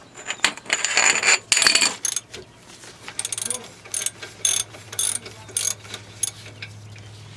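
A socket wrench loosening the rear brake caliper bolts on a 2002 Nissan Maxima, with rapid ratchet clicking in repeated bursts, close and clear over a low steady hum.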